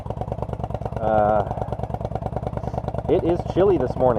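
A 1999 Yamaha V Star 1100 air-cooled V-twin motorcycle idles roughly after a cold start with a steady low throb, while someone speaks over it throughout.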